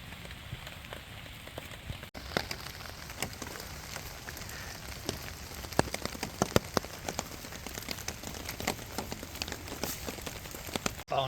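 Rain falling in woodland at a camp, steady patter on leaves and surfaces with scattered sharper drops, moderately quiet and continuous, with no voices.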